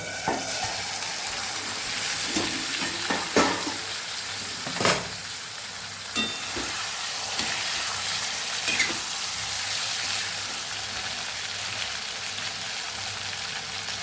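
Okra and potatoes cooking in a pan give a steady, close sizzle and crackle, with a few sharp clinks and scrapes of stirring and no talk.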